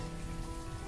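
Steady rain falls in the city-building game Banished, a dense even patter of drops across the surface with no gaps, moderately loud and close.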